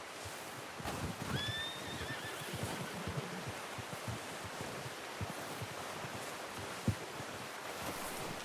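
A horse in Red Dead Redemption 2 gives a short, faint whinny early on, followed by soft hoof clops and a wind-like outdoor hush.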